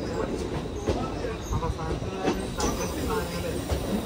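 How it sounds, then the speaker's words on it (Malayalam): A passenger train runs into Thrissur railway station with a continuous close rumble and faint rhythmic wheel clicks, and a voice talks over the noise. "തൃശ്ശൂർ റെയിൽവേ സ്റ്റേഷനിലേക്ക് ഇതാ നമ്മുടെ ട്രെയിൻ എത്തിക്കൊണ്ടിരിക്കുകയാണ്"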